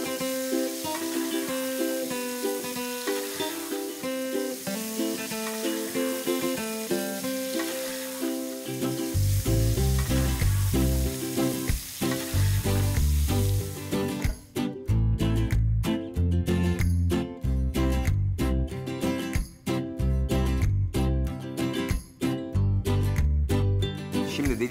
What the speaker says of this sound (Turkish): Şimdi bu tereyağı buradan eriyecek.